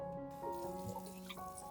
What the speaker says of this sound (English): Rinse the garlic under running water and let it drain well.